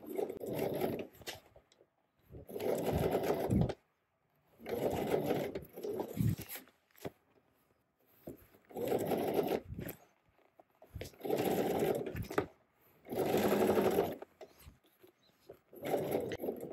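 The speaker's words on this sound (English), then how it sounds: "And now we're just sewing." A sewing machine stitches along a seam line on a garment front in six or seven steady bursts of a few seconds each, separated by short pauses; close and clear, with no talking.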